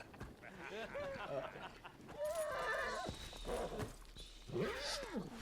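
A horse in the video game Ghost of Yōtei whinnies several times in rising and falling cries, with voices speaking at moments across the clip.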